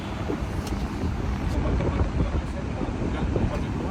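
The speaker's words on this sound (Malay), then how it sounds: "Angin sangat kencang namun kami agak excited untuk pasang tent cepat-cepat." Strong wind gusts across a seaside campsite at Southern Sea Fort, a continuous broadband roar and buffeting against the microphone that holds steady throughout with no clear speech.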